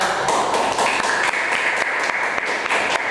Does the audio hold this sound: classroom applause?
yes